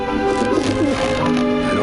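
Pigeons cooing in Grim Fandango, soft repeated warbling coos layered over a steady ambient game background, close and continuous with no talk.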